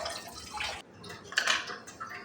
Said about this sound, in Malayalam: 3-4 വെള്ളത്തിൽ കഴുകിയെടുക്കുകയാണ്